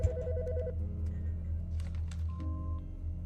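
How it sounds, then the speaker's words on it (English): In the video game Autopsy Sim, a telephone rings again with a short trilling burst over a low droning background, followed by a few soft clicks and a sustained tone. "The fucking phone."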